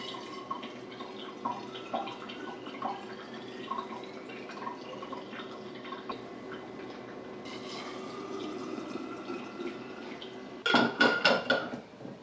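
Dishes rinsed under a running kitchen tap, a steady stream of water with soft clinks throughout, ending in a burst of louder clattering as items are handled near the end.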